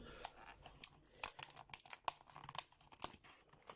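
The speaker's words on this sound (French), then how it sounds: "nous allons ouvrir les decks de structure" Yu-Gi-Oh structure deck packaging being opened, close crinkling and tearing of plastic in quick irregular bursts, quiet and with no voices.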